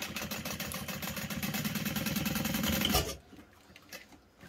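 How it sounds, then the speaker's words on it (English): A sewing machine backstitches over a D-ring on a clutch wallet with a rapid, steady mechanical chatter for about three seconds, then stops, leaving faint handling sounds. "I like to backstitch over it once or twice."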